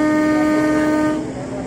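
A KRL commuter train sounds a thin, sustained horn blast at close range, holding a steady tone for about a second before cutting off, leaving station rumble behind.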